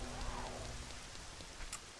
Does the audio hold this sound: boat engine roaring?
no